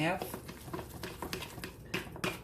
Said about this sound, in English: Mix it all the way in. Give it a good stir.